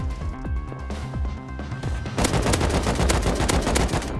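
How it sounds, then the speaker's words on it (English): Rapid bursts of gunfire in the survival video game Rust: a few scattered shots first, then a loud, dense run of quick repeated shots close by, over steady background game sound. "I think I'm gonna shoot"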